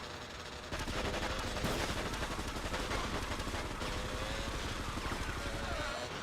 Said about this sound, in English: LB to fire.